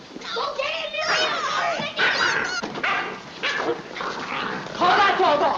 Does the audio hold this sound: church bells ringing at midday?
no